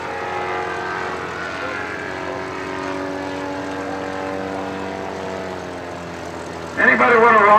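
A propeller airplane makes a high-speed pass low over the runway at an air show, its steady engine drone holding loud and near before a sharper, rising surge of prop noise near the end.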